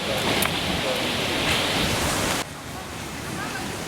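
Steady roaring northwest wind in Gelendzhik, a broad rushing hiss that drops abruptly partway through, then continues more softly.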